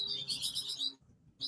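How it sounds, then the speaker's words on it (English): Birds chirping in quick, bright bursts of tweets, a run of twittering calls, a brief pause, then another call, fairly close and clear over a low background murmur. "It's the birds."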